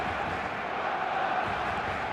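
Dense, steady roar of a large stadium crowd in the eFootball video game, a continuous wash of distant voices and chanting filling the whole moment without distinct peaks.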